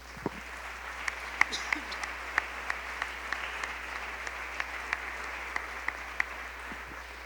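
Congregation at a Spanish-language church service applauding in praise: continuous, moderately loud clapping with distinct sharp claps standing out throughout, and voices mixed in.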